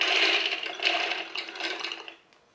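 Dry chickpeas poured into a food processor bowl, a loud, bright rattling cascade of hard little peas striking plastic that thins out and stops near the end, with no voices.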